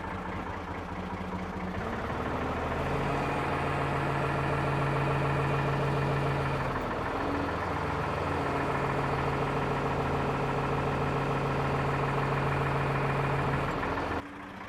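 A backhoe engine idles steadily nearby with a low, even hum and a slight change in pitch partway through, then cuts off abruptly at the end.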